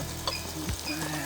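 Manioc pittu with cut eggs stirred and frying in a pan, giving a steady, close, soft sizzle with light scraping from the stirring and no voices.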